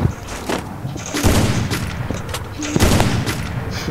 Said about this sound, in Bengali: এ দেখো সে মামুন আবারও এডব্লিউএম নিয়ে এ করলো।